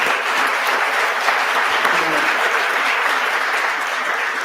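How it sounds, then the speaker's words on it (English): A live forum audience claps for the panelists of a community discussion with Columbus religious leaders. The applause is dense, loud and sustained, an even wash of many hands from start to finish. "So this one really quick round of applause for our panelists"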